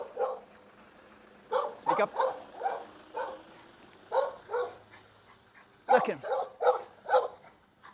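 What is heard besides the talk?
pit bull dog barking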